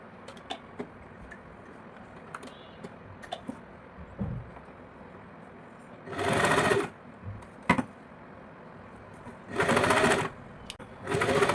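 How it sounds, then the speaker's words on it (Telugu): A sewing machine stitches a folded blouse seam in two short, loud whirring bursts, with quiet fabric handling and small ticks between them. "దాన్ని ఇలా ఫోల్డ్ చేసి స్టిచ్ చేసుకోవాలి."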